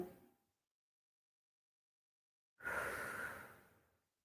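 A single long exhale of breath during a back pain relief exercise session, heard alone after a short trailing breath and a stretch of near silence.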